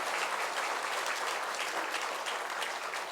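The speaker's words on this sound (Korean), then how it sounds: "우리 두 분 큰 축복의 박수 하겠습니다" Steady, dense applause from a church congregation during a Sunday service, continuous clapping at even loudness throughout with no voices standing out.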